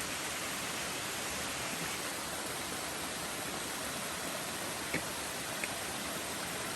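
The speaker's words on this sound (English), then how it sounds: "Lots of waterfalls today." A waterfall on the Appalachian Trail after storms, heard as a steady, even rush of falling water filling the whole clip, with a couple of faint ticks near the end.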